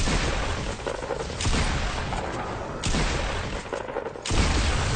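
Explosives blowing up zombies in Fortnite, a run of loud booming blasts and rumbling bursts recurring every second or so, close and heavy with no talk over them.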